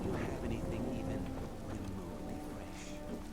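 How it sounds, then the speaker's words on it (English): Rain falling steadily in Skyrim with a low thunder rumble underneath, a constant patter at moderate level while a voice talks over it. "Only because there is still rain here and thunder."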